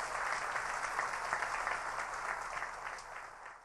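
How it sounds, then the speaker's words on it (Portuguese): A church congregation claps steadily together during a televised Catholic Mass program, a dense, even wash of many hands heard at moderate distance that fades slightly toward the end. "Bata palmas para Jesus!"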